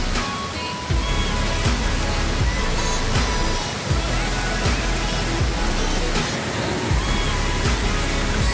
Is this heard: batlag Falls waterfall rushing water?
yes